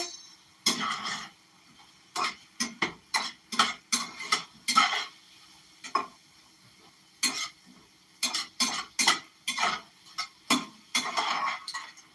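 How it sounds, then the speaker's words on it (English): Ingredients seasoned with adobo are stirred in a pot, a spoon scraping and clinking against the sides in irregular bursts with short pauses between them, close by and with no talking. "Stir everything together."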